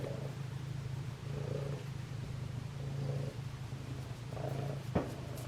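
A cat with an eye infection purrs loudly and steadily close to the microphone, its rumbling rising and falling with each breath, and a brief sharp click near the end.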